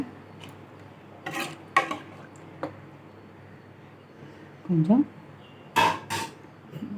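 Soaked rice being stirred into a pot of prawn biryani: a few sharp clinks and scrapes of a utensil against the pot, separated by quiet gaps, close and fairly soft.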